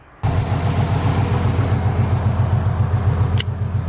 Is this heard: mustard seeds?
no